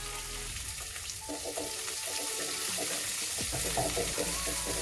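Onions sautéing in a pan for a Kerala-style curd tomato curry, a steady close sizzle with occasional scraping and clinks of a spoon against the pan.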